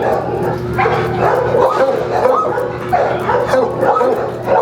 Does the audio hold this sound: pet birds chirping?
no